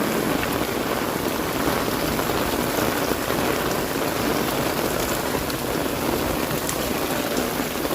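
Heavy rain pours down steadily in Banaskantha, a dense, continuous hiss of drops drumming on surfaces, loud and unbroken throughout with no voices.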